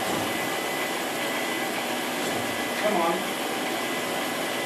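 Pressurized water rushes through a half-inch supply line into a VersaChlor chlorination system once the valve is opened, a steady broadband hiss that holds for the whole stretch, with a brief spoken voice near the end.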